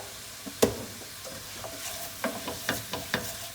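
A spoon stirs a sizzling seafood paella base in a pan, with a sharp scrape near the start and then a run of soft, regular scraping strokes over a steady low sizzle, close and clear.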